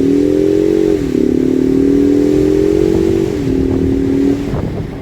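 A 2020 Ford Mustang 2.3L 55th Anniversary Edition, its engine droning loud and close at full throttle, the steady pitch dropping slightly at a shift before easing off near the end.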